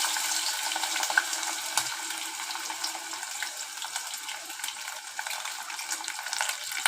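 Potato pieces frying in oil in a pan, a continuous even sizzle with light crackle that stays steady throughout, close by and moderately loud.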